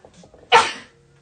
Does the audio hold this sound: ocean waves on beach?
no